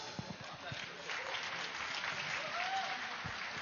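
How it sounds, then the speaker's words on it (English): Applause for the cooks rises from a crowd at a meditation summit in India, a muffled steady patter heard from a distance, with voices talking over it. "let us also give a huge round of applause for the cooks."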